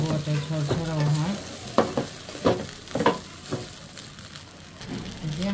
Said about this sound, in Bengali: যে আমার চালটা ভাজা হয়ে গেছে